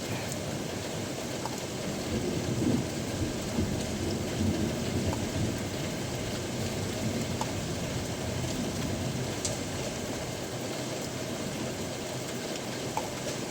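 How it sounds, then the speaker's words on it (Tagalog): Heavy morning rain falls in a dense, even hiss during a thunderstorm, with faint low rumbling beneath and no voices. "Uy, kidlat."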